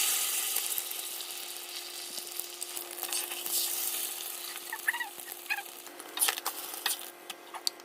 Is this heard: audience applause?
no